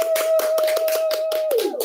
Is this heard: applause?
yes